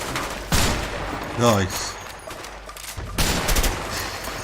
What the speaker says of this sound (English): Your shooting's good.